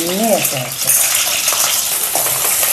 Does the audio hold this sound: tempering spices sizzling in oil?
yes